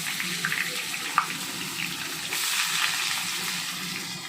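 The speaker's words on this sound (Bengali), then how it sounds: "আমি তেলটা গরম করে আমি পেঁয়াজটা ভাজতে দিয়ে দিচ্ছি" Onions frying in hot oil give a steady, broad hiss with faint clinks and watery sink-like noise mixed in, continuous throughout without speech.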